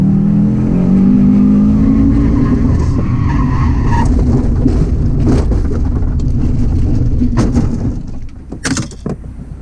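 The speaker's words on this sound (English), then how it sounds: "you went around that corner there, then the car stepped out on you" A race car at a time attack event in South Africa slides out through a track corner, its loud engine roaring close with skidding tyre noise that rises and tails off near the end.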